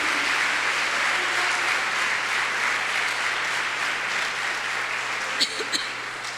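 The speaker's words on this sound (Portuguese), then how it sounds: "e aplauda o nome dEle" Sustained applause from a church congregation during a sermon, a dense steady wash of clapping that continues throughout, with a few sharper claps near the end.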